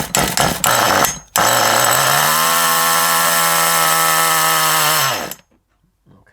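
A nitro RC car engine starts with a few sputtering pops, then settles into a loud, steady, high buzzing idle that drops slightly in pitch before cutting out abruptly into silence.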